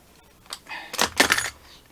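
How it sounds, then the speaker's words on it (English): Knife blade cutting through leather to open a zipper slot on a ladies' roper-style wallet, a few short scraping strokes rising to louder rasping bursts over about a second, close and alone with no talking. "Now what we're doing here, we're cutting out for our zipper."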